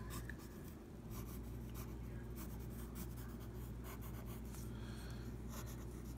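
A pencil scratches across paper while a cartoon figure is drawn, faint soft strokes in short bursts over a steady low background hum, with no talking.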